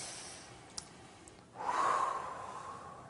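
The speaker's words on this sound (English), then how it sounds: "Take a deep breath." A single deep breath during a guided relaxation meditation: a quiet pause, then a long audible inhalation or exhalation that swells and slowly fades, close to the microphone.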